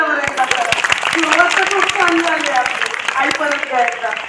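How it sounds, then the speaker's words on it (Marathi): An audience claps at a school haldi-kunku gathering, a dense run of sharp claps going on throughout under several voices talking. "सगळ्यांनी टाळ्या"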